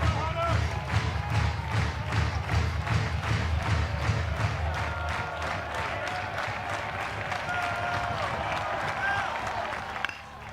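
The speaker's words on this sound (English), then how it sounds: "Crowd kind of coming to their feet. Little support for Hagenau." A college baseball crowd at a Tennessee versus Kentucky game rising and cheering for the pitcher, with sustained applause and rhythmic clapping rolling over a busy stadium, loud at first and easing off slightly toward the end.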